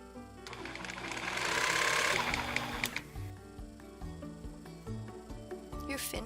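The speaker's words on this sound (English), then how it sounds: "Stitch across the shoulder area." Small sewing machine stitching across the shoulder seam of an 11-inch doll shirt, a quiet steady whir rising then tapering into slower, uneven stitch clicks, close up with light background music.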